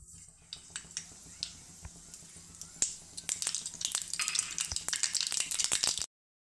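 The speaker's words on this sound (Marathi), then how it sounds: "मोहरी छान तडतडलेली आहे" Mustard seeds splutter in hot oil in a kadhai on a gas stove, starting as scattered sharp pops and building into a dense, rapid crackling close by before stopping abruptly.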